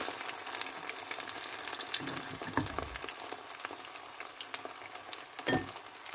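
Mussels frying in a hot pan of oil for a Thai fried mussel dish, a steady crackling sizzle with scattered pops and a few stirring scrapes, close and continuous with no talk.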